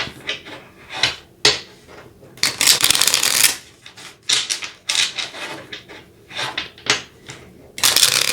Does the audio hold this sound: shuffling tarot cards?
yes